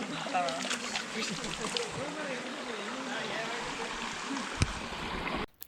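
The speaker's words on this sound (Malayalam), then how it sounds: "ഞങ്ങളിപ്പോൾ ഈ ക്യാമ്പിൻ്റെ അടുത്തുള്ള അരുവിയിലാണ് കേട്ടോ" Forest stream beside a trekking camp on the Agasthyarkoodam trail, flowing water and sloshing running steadily throughout, with a person speaking over it and a sharp knock near the end.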